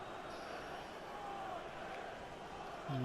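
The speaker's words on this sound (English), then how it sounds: "Very good crowd, a very good turnout at the turf tonight" Stadium crowd in the FIFA 20 video game, a steady wash of massed murmur and cheering that holds evenly for a few seconds with no clear peaks.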